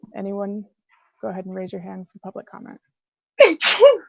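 Someone gives a loud sneeze near the microphone just after someone speaks during an online park board meeting.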